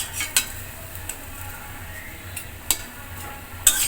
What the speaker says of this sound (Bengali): কম তেলে তালের বড়া, একদম কম তেলে।